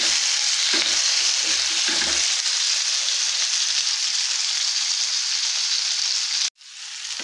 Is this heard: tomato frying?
yes